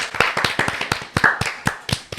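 A small group claps for a guest barber on a podcast, sparse, distinct hand claps close by in an uneven rhythm, about a dozen sharp slaps over two seconds.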